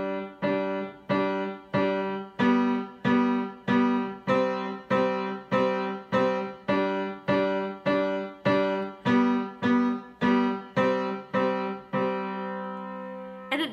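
Piano plays a slow, even pattern of repeated chords from a song, each struck chord ringing and decaying before the next, ending on a held chord, with no talking.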